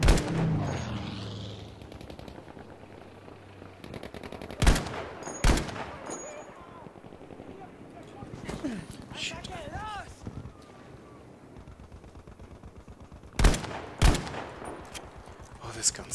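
Battlefield V gunfire cracks out in a few sharp, loud bursts spread across the stretch, with quieter game noise between and someone talking over the action.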